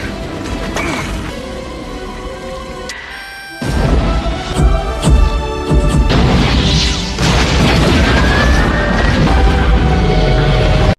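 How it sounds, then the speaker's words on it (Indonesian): A huge movie-style blast from the nuclear bomb detonating on the asteroid in Armageddon erupts after a brief lull, a sustained loud roar and rumble with crashing debris that stays heavy to the end, mixed with dramatic music. "Setelah Harry meledakkan bom yang menyelamatkan planet bumi"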